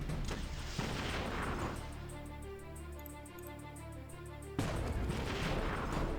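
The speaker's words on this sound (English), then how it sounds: "Tank fire." Tanks fire in the video game Battle Nations: a booming shot lands early, then after a lull of tonal game music a second heavy blast of artillery-like fire erupts, loud and near.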